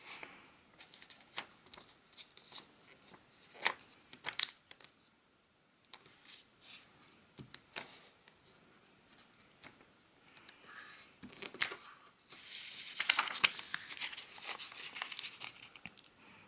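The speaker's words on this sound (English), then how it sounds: "We're going to open this up and fold either side towards the center." Sheet of paper being folded for an origami fish, with soft crinkling, creasing and rustling handled close up, growing louder and denser toward the end, no talking.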